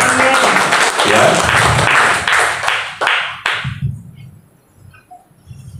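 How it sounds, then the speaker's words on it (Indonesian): A church congregation applauding during a worship service, loud dense clapping that holds for about three seconds, then thins to a few last claps and dies into a quiet room. "Beri tepuk tangan buat Tuhan."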